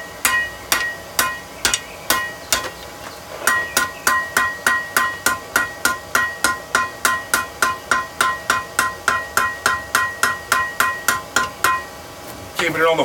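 Steel tongs being forged on the horn of an anvil: a long run of sharp, ringing hammer blows, loud and close, falling into a fast steady rhythm after a few slower opening strikes.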